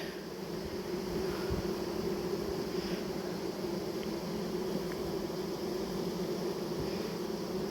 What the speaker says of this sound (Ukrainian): Ну, бджоли багато